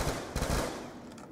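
An upgraded gun fires in Black Ops 2 Zombies, a short rapid burst of loud, close shots over about half a second followed by a fading tail.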